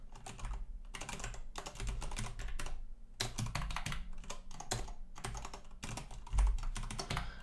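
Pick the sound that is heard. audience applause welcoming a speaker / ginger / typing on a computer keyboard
typing on a computer keyboard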